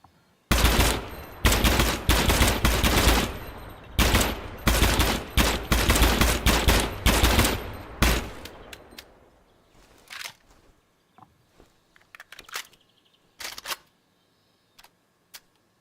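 Automatic gunfire in the Gunsmith Simulator video game, several loud, rapid bursts of sharp shots over the first eight seconds, then sparse single clicks and mechanical handling noises trailing off.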